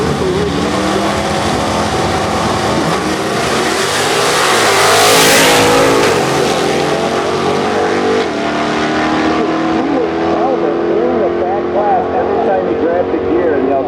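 An old nitrous-fed El Camino street car roars down a drag strip in a loud, sustained pass that swells and then fades into the distance, with an announcer talking over it.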